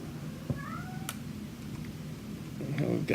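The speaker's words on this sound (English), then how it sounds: "Got somebody meowing back there." A cat meows a few times in the background, short rising cries set faintly behind low room noise, with another brief cry near the end.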